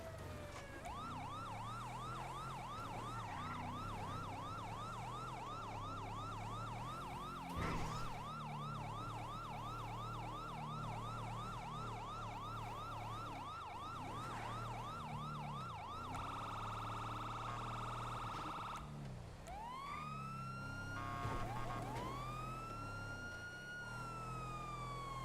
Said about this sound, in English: I remember how to turn on the siren.